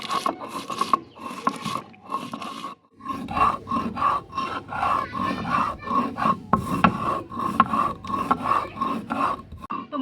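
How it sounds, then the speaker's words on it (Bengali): Fried spices for an amra-peel pickle being ground on a stone slab (pata) with a stone roller, a steady rhythmic rasping and rubbing close by, with a brief pause before the strokes resume and continue to the end. "এবার ভাজা মশলাগুলো আমি পাটায় বেটে নিব তো পাটায় দিয়ে দিচ্ছি মশলাটা আমি দিয়ে এবার আমি বেটে নিব ভালো করে মিহি করে গুঁড়ো করে নেব"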